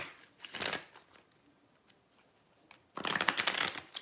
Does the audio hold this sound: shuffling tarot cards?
yes